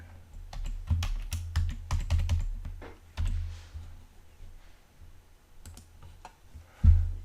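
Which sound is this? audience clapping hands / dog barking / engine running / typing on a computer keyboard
typing on a computer keyboard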